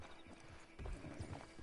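Horse hooves clip-clopping in the video game Red Dead Redemption Online, a faint, quick run of soft thuds that grows a little heavier midway, with low background sound and no clear speech.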